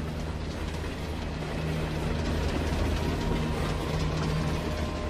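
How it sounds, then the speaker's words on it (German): A train rolls past in a steady, dense wash of rumbling wheels and clattering rail noise, loud and close with no break across the whole stretch. "Hier kommt mal wieder ein Zug vorbei."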